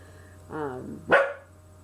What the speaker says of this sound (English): excuse my dog. That's the dog.